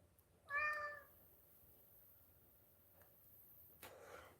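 A single clear cat meow, rising and falling, up close and fairly loud against a quiet room, followed by faint small knocks and rustles.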